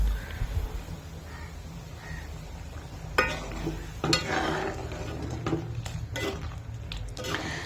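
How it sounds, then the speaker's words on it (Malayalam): A spoon stirs mashed dal into simmering sambar in a pot, with faint scraping and a few sharp clinks against the metal over low background hum; crows caw faintly in the distance. "നന്നായിട്ട് ഉടച്ച് ചേർത്ത പരിപ്പ് കൂടി നമുക്കതിലേക്ക് ഒഴിച്ചു കൊടുക്കാം നന്നായിട്ടൊന്ന് ഇളക്കി യോജിപ്പിച്ച് കൊടുക്കാം"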